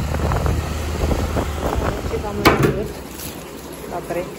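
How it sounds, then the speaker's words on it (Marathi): Wind rushing past a moving two-wheeler, a continuous buffeting roar with a louder gust midway, while a person talks over it. "छान हवा येते गाडीवरती."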